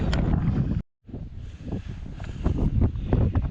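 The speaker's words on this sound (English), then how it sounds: "Getting a bit windy." Steady wind buffets the microphone with a low rumble on the Watkin Path mountain trail, briefly cutting out before gusting back in strongly.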